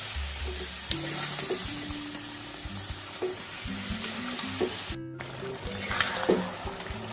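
Chicken being stir-fried with spices and a splash of water in a pan, with a steady sizzle broken by repeated scraping strokes of the spatula and a few metallic knocks against the pan.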